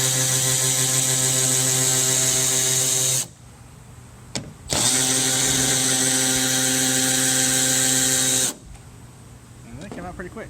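Milwaukee high-speed 1/4-inch electric ratchet backing out two bolts: a loud, close, high-pitched whine that runs steadily, cuts off briefly, runs again and stops, with a faint clicking at the end.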